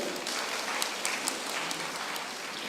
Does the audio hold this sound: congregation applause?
yes